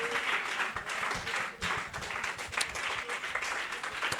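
A church congregation applauds to acclaim the Lord, a dense and steady wash of many hands clapping together, with a few sharper individual claps popping out.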